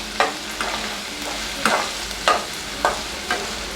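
Chopped onions sauté in a pan, with a soft continuous sizzle broken by five or six sharp scraping strokes of a spatula stirring at a fairly regular pace.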